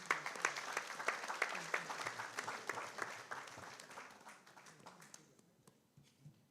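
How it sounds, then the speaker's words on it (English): An audience at an annual conference claps for Lloyd Badze as he walks through, a dense burst of many hands that starts strong and gradually thins and fades out by the end. "let's just clap for him and let's give him a big hand"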